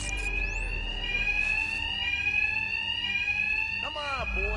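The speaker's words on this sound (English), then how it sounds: "My attacks will be covered by the noise of the alarm." An alarm rings steadily and loudly in Batman: Arkham Knight, a continuous shrill tone that persists while voices and other game sounds briefly cut across it near the end.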